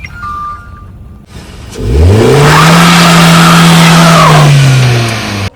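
A car engine starts up and revs steadily for several seconds, loud and close, with a rising then sustained drone before easing off, on a mountain outing as the vehicle is driven and parked.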